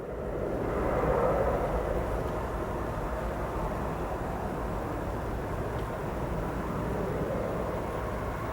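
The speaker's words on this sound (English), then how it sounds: "There it is, catching up to an aircraft landing on 9 left." Aircraft landing on runway 9 left at O'Hare Airport, a broad rumbling jet roar that swells early and then holds steady at a moderate distance.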